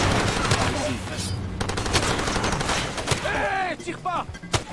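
Close, loud bursts of automatic gunfire in the video game Far Cry 2, rapid cracks repeating through the clip with whooshing and a voice mixed in.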